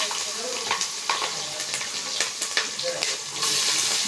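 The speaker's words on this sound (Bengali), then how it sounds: "এখন হাতের তেল দিছি, পেঁয়াজ মরিচ দিয়ে দেবো।" Onion, chili and garlic fry in hot oil with a steady sizzle, broken by repeated stirring scrapes at close range, with no talk.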